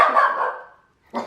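A dog barks indoors in a home kitchen during cooking, one drawn-out bark that trails off, then a sharp second bark begins after a brief silence, close and loud.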